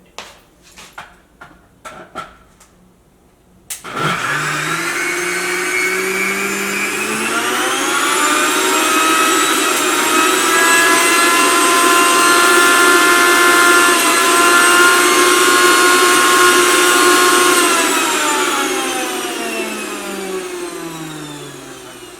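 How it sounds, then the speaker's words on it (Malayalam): A kitchen mixer grinder whirring loudly as it blends a butterscotch pudding mixture, starting abruptly after a few light knocks and holding a steady high whine for about eighteen seconds before slowing down. "ഇനി ഒന്നുകൂടി ഒന്ന് മിക്സിയിലിട്ടിട്ട് ഒന്നുകൂടി ഒന്ന് കറക്കിയിട്ട് എടുക്കട്ടെ."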